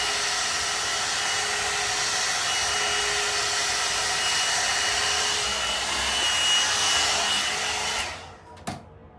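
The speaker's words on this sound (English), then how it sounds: "as you can see, that blow dryer is. No flat iron needed." A blow dryer used to straighten hair roars loudly and steadily for about eight seconds, then cuts off abruptly with a short clatter.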